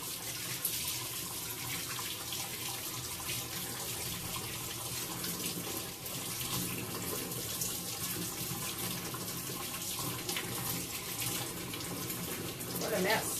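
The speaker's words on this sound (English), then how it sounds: "let me wash my hands" Hands being washed under a running kitchen tap, a steady close rush of water with splashing, continuous throughout, and faint voices now and then in the background.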